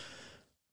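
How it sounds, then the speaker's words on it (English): A single big, fast puff of exhaled breath, close and soft, trailing off quickly into silence. "hear the big fast puff exhale, because you think that will calm it"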